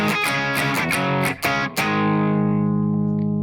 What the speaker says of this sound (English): It'll start with a cleaner, quieter guitar.